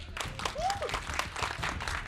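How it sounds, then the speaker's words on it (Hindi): Audience applause breaks out after a pointed question at a televised political debate, a steady wash of clapping with a brief voice cutting through. "यही होता है जब सवालों में दम हो तो फिर तालियां रुकती नहीं है"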